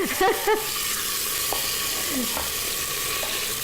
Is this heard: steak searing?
yes